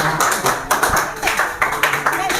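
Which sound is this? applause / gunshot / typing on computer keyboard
applause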